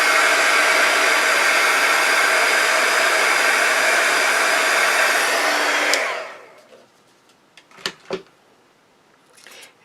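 A heat tool runs loud and steady for about six seconds, drying smeared marker ink and colour on a handmade card, then cuts off, leaving faint clicks and small handling noises.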